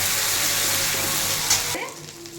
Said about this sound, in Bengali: এবার ভালো করে মশলাটাকে আমি কষিয়ে নেব